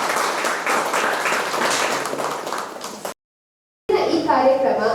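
Audience applause at a roadside farmers' protest rally against a land acquisition, a dense burst of clapping for about three seconds, a sudden silence, then a voice speaking.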